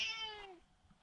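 A house cat gives one clear, close meow that slides downward and fades out, with quiet room noise afterward.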